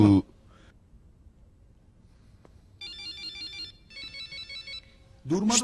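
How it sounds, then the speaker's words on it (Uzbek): A phone ringtone plays in two bursts of bright, repeating electronic tones, with short voice fragments at the start and end. "telefoning sira jim turmadi-da"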